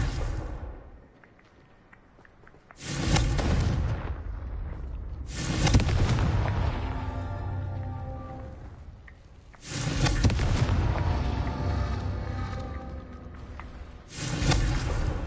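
Explosive spell blasts from the video game Hogwarts Legacy burst in four loud booms, each sharp onset followed by a rumbling decay, separated by quieter gaps of ambient game sound.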